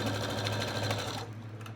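Close sewing machine stitching quilt fabric, a fast even mechanical whir with a regular needle rhythm that stops near the end.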